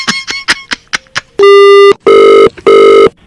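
A telephone rings loudly, a few quick tones followed by three long, steady electronic ring bursts separated by short gaps, with no voices.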